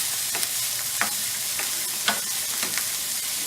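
A Spanish rice base sizzles and fries in a pan while being stirred, a constant hiss broken by several sharp scraping strokes of the utensil, close and fairly loud with no talk.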